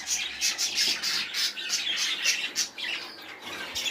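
Birds on a small farm with two ducks and pigeons, a steady run of high chirps and squawks repeating close by, with rapid calls overlapping throughout and no talking.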